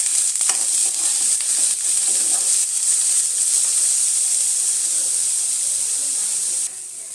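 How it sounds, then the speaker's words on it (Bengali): Raw jackfruit pieces frying lightly in oil in a kadai over a medium flame, giving a steady, close, bright sizzle and hiss that holds unbroken for several seconds, with no talking. "ইঁচড়গুলো একটু হালকা করে ভেজে নেব।"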